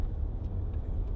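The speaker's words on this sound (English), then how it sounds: "this car changes gear. You really wouldn't even notice. It's imperceptible. It's beautiful gearbox." A Range Rover Sport 3.0 SD V6 diesel shifts gear smoothly, with a steady low engine drone and road noise heard from inside the cabin, moderately loud and unbroken.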